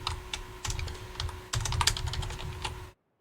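Clicking keystrokes rattle on a computer keyboard in irregular bursts and runs, fairly close, with a steady faint hum underneath, ending abruptly in near silence before one last tap.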